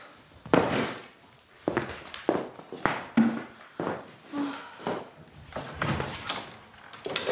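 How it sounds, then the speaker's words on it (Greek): A door opens indoors amid a series of close wooden thuds, knocks and footsteps that come in irregular bursts, with no talking. "Άνοιξε την πόρτα."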